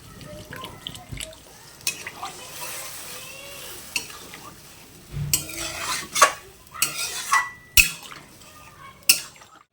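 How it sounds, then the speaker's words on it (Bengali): Water is poured into potato curry frying in a pan, giving sizzling and stirring with several sharp splashy bursts in the later part, fairly close and moderately loud. "এবার আমি পরিমাণ মতন জল দিয়ে দেবো"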